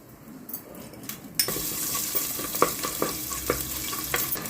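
Mustard seeds and spices for a tempering crackle and sizzle in four spoons of hot oil in a pan, heard while cooking Telugu dosakaya pappu. A sharp onset of frying is followed by steady hiss with a few pops and stirring clinks.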